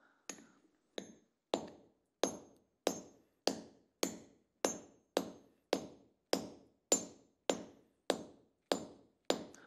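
Metal hammer blows strike a steel shackle's screw thread at a steady pace, about fifteen sharp ringing impacts, each decaying quickly before the next, in a quiet room with no talking.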